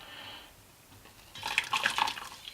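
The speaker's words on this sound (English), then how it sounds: "let's pour a little of this boiling hot water on one of my hands" Boiling hot water poured onto a hand in a heat-resistant glove, a soft splashing trickle that rises to a louder spatter near the end.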